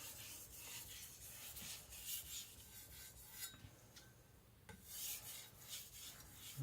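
An IKEA Chinese cleaver is stroked gently across a sharpening stone to refine the edge, giving soft, close, rhythmic rasping rubs at a quiet level.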